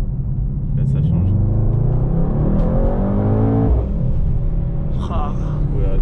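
A Mercedes-AMG GT 63 S four-door, driven without its exhaust fitted, revs loudly from inside the cabin, its engine note rising steadily before dropping off, with people talking over the engine.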